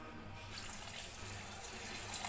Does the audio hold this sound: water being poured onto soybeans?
yes